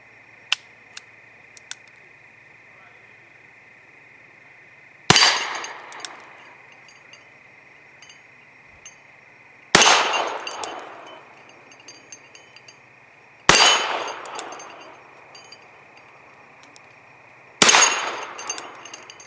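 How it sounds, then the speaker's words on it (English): Four loud, sharp gunshots from a Smith and Wesson Victory .38 revolver, fired one at a time at roughly four-second intervals, each a hard crack with a brief decaying echo, over a steady high background whine and a few faint clicks. "we finally got 4 decent shots out of this frickin' thing"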